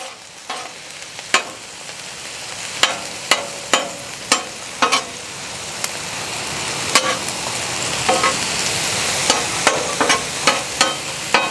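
Mushrooms frying on a Blackstone griddle give a steady, loud sizzle, with a spatula clicking and scraping against the flat-top in irregular taps throughout, up close and with no talking.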